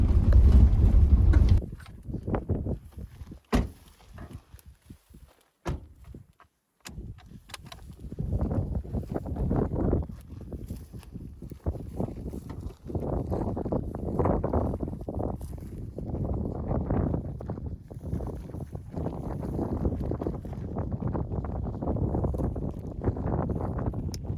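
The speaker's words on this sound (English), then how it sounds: "This wind's horrible." Wind gusting across open pronghorn antelope country in Oregon, a loud buffeting rush at the start followed by steady rough wind noise battering the microphone, with a few sharp knocks and no talking.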